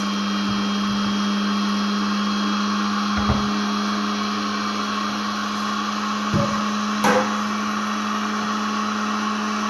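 A Turkish-made milk cream separator running with warm milk, a steady, loud electric hum and whine holding constant throughout, with a few faint knocks and clicks over the drone.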